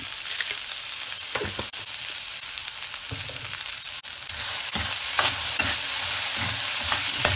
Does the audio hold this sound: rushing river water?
no